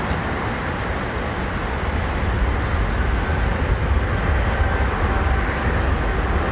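A Boeing 777 airliner at London Heathrow Airport roars with a broad, steady engine rumble that swells slightly over several seconds, loud and continuous.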